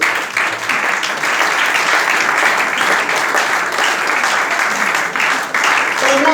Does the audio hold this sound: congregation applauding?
yes